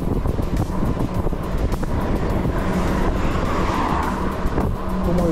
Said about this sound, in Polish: trochę wiatr